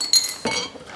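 Belgian Pilsner glasses clink together in a bright, ringing toast, one sharp clink followed by a second softer knock, close up with no voices.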